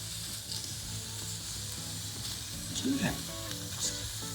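Smashed patties sizzle on a hot griddle outdoors at a state park, giving a steady, moderate frying hiss with a few faint scrapes and clinks, with a faint voice briefly underneath.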